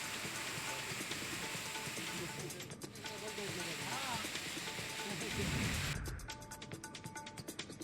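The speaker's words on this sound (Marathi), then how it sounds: "बीड जिल्ह्यात पावसाचा जोर कायम आहे" Steady rain in Beed district hisses throughout as a dense wash of noise, with a voice speaking faintly underneath.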